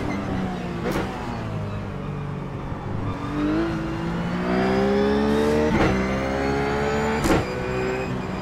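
Engine of a Ruf GT3 racing at Laguna Seca in iRacing, droning steadily with rising and falling pitch through gear changes, while a BMW closes in and passes with a brief whoosh near the end.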